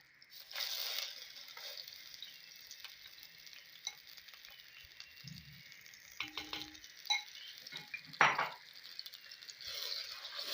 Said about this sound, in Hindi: जैसे ही ऑयल गर्म होगा हम इसमें 3 अदद प्याज का पेस्ट हमने तैयार करके रखा है वो हम इसमें शामिल कर देंगे